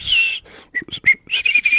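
A person whistles in short high-pitched chirps, imitating a finch's call in a quick broken rhythm, close and loud with no speech.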